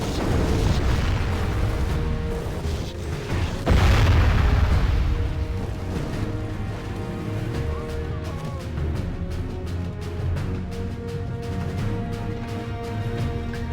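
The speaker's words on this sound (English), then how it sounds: "the bombard shots cause them to break" Bombard cannon fire in the video game Medieval II Total War during a large river-crossing battle, a heavy deep boom near the start followed by a dense rumble of distant battle noise and clattering.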